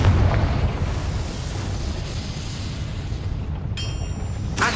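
The Confringo spell in Hogwarts Legacy sets off a loud, deep explosion with a heavy boom at the start that trails into a long rumbling decay, capped by brief bright effects near the end.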